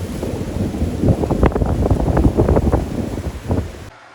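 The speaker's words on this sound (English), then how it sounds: "Wow, I've never seen a lightning and hailstorm at the same time." Gusty wind roars against the microphone while hail and rain clatter densely, with low rumbling like distant thunder underneath, ending abruptly.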